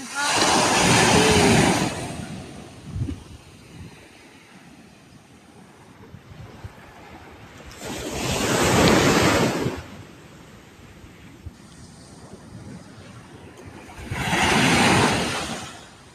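Broad washes of surf swell and recede in three slow surges on Veneshwar Beach in Konkan, with steady wind and water noise between the crashing waves.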